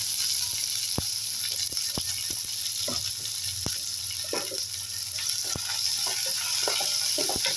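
Onion, garlic and curry leaves sautéing in a pan, a faint continuous sizzle broken by scattered sharp clicks and taps of a spoon against the pan.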